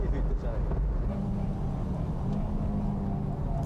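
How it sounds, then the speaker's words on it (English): A Ferrari 355 Modena race car passes on the Fuji circuit as a distant, steady engine drone that stays fairly faint and holds at an even level. "Yeah, there goes the 355."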